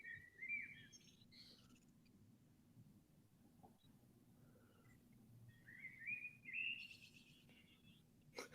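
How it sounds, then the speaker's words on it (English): Birds chirp and whistle in short, bright phrases at the start and again near the end, faint and somewhat distant, over a low, steady background hum, with no talking. "I can hear birds chirping."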